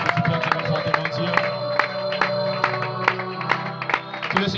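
A church congregation cheers and acclaims God, a crowd of voices shouting together over rhythmic clapping and applause, loud and close and sustained through the clip.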